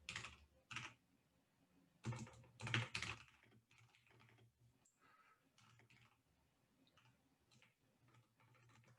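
Code being typed on a computer keyboard in IntelliJ: quiet clusters of close key clicks in short bursts separated by brief pauses.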